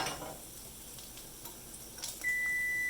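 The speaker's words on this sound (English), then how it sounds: "that's the timer going off" Morel mushrooms fry in a pan, a soft sizzle with a few faint clinks, before a kitchen timer starts a steady, loud high-pitched beep near the end.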